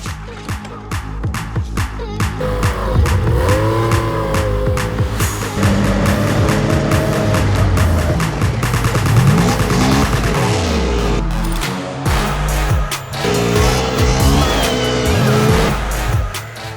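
Three-cylinder, 140-horsepower Rage buggies race and drift, with engines revving hard and rising and falling through gear changes under continuous loud tire squeal and skidding, the sound close and sustained throughout.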